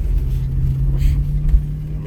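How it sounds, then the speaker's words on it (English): Car driving in traffic, heard from inside as a steady low engine and road rumble with a faint hum, close and continuous without clear passing vehicles. "because I'm driving, bear with me. Just want to get out of this traffic, Salakia, you know."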